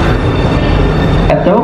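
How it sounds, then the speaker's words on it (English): A Blue Line metro train pulls into station A7 with a continuous rolling rumble and hiss of wheels on track, then a brief sharper squeal as it slows near the end. "Train is approaching station A7. This is a Blue Line train."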